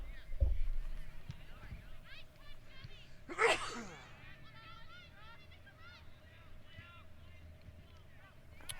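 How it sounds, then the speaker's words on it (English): A single sudden sneeze bursts out near the microphone partway through, heard amid steady outdoor wind noise during a girls' high school soccer game broadcast. "A little sneeze snuck up on me."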